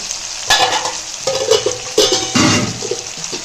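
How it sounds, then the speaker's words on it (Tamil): Vegetables sauté in a pan for kuzhambu with a loud, steady sizzle, broken by several close scraping stirs of a utensil against the pan. "இந்த பக்கம் காயை வதக்கிக்கலாம் காயை வதக்கிட்டு இதுக்கு தேவையான அளவுக்கு கல் உப்பு சேர்த்துக்கலாம்"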